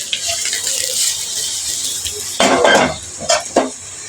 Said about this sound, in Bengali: এখন আমি এই মাছগুলা এই তরকারিটাতে দিয়ে দিতেছি।